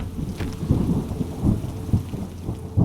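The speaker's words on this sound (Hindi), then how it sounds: "बारिश तेज थी" Heavy rain pouring steadily with low, rumbling thunder, a dense continuous roar with recurring deeper swells.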